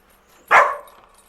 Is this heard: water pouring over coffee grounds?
no